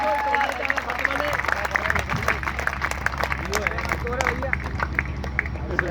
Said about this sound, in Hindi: जरा सा तालियां बताइए आप अपनी